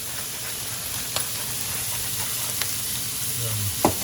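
Onions frying in a pan with salt give a steady, close sizzle, broken by a few faint clicks and stirring scrapes.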